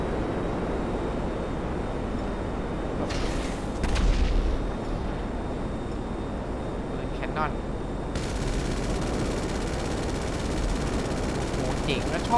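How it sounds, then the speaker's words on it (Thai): Hydra jet cannon and machine gun fire in GTA V comes as dense, rumbling bursts under a constant jet roar, with a louder blast near the middle, and a voice talks over it at times. "ปืนแคนนอนปืนกลมันเหมือนระเบิดเลยอ่ะโอ้โห"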